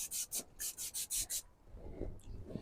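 A brush scrubs a smoker's grill grates in about seven quick, even back-and-forth strokes, close and crisp, followed by quieter handling noise.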